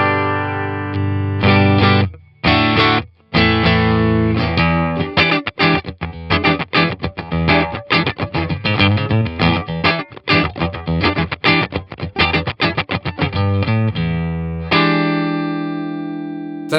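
Electric guitar played through the Deluxe amp model of a Nux Amp Academy, with distorted, effects-laden chords and notes strummed in choppy bursts and short pauses, ending on a sustained ringing chord.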